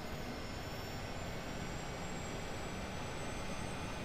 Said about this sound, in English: APU is spooling.